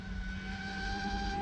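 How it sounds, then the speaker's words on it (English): A fuel pump in a VR6 turbo wagon runs as a steady, loud electric whine with a sustained tonal hum and low rumble underneath, continuous and close, with no talking. "there's that fuel pump going, very, very loud."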